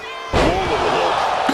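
A flapjack slam in WWE 2K26 wrestling game, a sudden loud impact thud followed by sustained crowd roar and arena noise.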